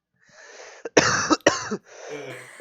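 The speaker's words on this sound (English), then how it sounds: "I know I had to cough." A single person coughs twice in quick succession, loud and close, with quiet breathy sounds just before and after.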